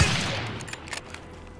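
Gunfire crackles in the Call of Duty Warzone video game, a loud opening burst that trails off into a few scattered, fainter shots over a steady background hum.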